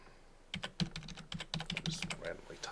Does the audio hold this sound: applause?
no